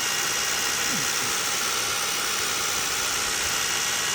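Electric outboard motor prototype running at throttle, giving a steady, fairly loud high-pitched whine and hiss that holds evenly across the whole stretch with no voices.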